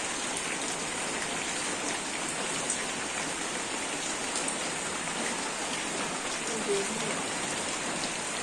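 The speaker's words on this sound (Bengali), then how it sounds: "এই টিপ টিপ করে বৃষ্টি।" Light, steady drizzle falls outdoors on a vegetable farm growing bottle gourds, making a continuous soft patter of raindrops that stays even and moderately quiet throughout.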